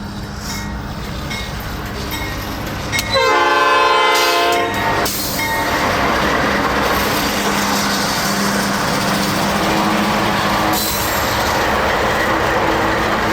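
A coal train rumbles past near Asheville, its horn sounding in a loud, sustained chord early on, followed by the steady roar and rattle of wagons rolling by close up, with faint wheel squeal.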